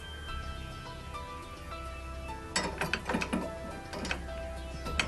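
Wrench or ratchet tightening bolts on a golf cart seat belt bar, a burst of close metallic clicks and clunks in the middle, over a low steady background hum.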